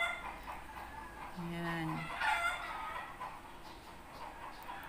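Neighborhood chickens and a rooster sound faintly in the background, with soft clucks and a distant crow-like call while a person briefly speaks.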